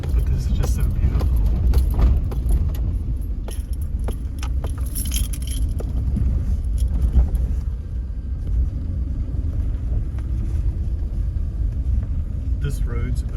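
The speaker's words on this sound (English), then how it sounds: "This road's a bit rough for my car." A car driving along a rough road on the way to Debengeni Falls rumbles low and continuously from inside the cabin, with loose rattling and jangling over bumps.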